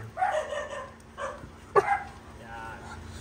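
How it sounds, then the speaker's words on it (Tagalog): Pet dogs outdoors near the sea give several close barks and yips in irregular bursts, with a faint steady tone underneath. "Ay, mga aso natin na yun."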